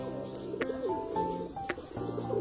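Pigeons coo repeatedly at a rooftop loft under a cloudy sky, with a newly paired bird nearby, soft throaty calls rising and falling over a steady low murmur, close and continuous with brief louder bursts.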